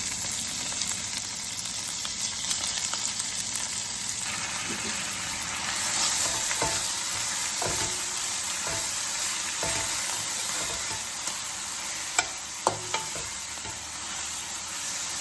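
Chopped fenugreek leaves fry in a pan with onions, a steady soft sizzle broken by repeated scraping strokes and clicks of a spoon stirring against the pan.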